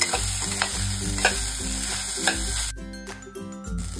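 Idli pieces and peanuts stirred in a hot, oily pan for idli upma give a steady, loud sizzle with scraping strokes, and the frying fades toward the end.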